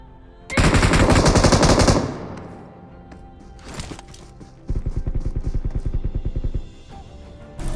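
Automatic gunfire in the video game PUBG, a loud sustained burst followed by a pause, a couple of single shots, then a second rapid rhythmic burst of rounds.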